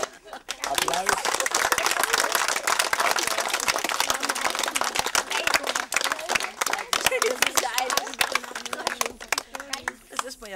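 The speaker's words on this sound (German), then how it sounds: "Applaus." A studio audience at a regional television show applauds with steady, dense clapping that fills the whole stretch, fairly close and even, with a few sharper individual claps standing out.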